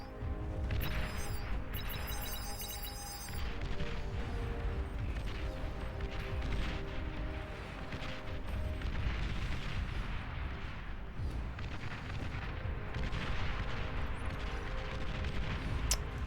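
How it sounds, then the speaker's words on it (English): Artillery pieces in the strategy game Beyond All Reason fire back and forth in a steady, dense barrage of booms and impacts, layered under a droning battle din at moderate volume, with no talking. "All the artillery pieces trading back and forth."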